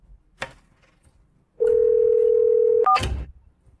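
A telephone gives a steady dial tone for over a second, then a quick pair of dialing tones sound, with brief rustling before and after.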